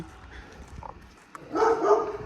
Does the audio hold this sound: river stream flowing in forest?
no